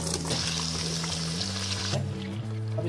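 Thick-cut carrots frying in ghee inside a pressure cooker, a steady hissing sizzle with a low hum beneath, close and continuous with no talking.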